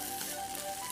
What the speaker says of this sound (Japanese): 次にオクラを入れて1分ほど焼いていきます